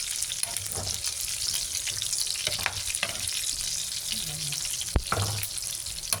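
Sahog for monggo, the browned sautéed base for a mung bean dish, fries in oil with a constant crackling sizzle. A few clunks from stirring cut through, and one sharp knock stands out near the end.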